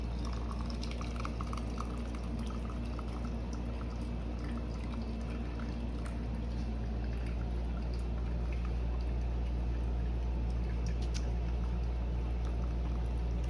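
Possum grape juice pours through a small sieve strainer in a steady, continuous liquid rush with a bubbling, trickling texture, close and even throughout with no talking.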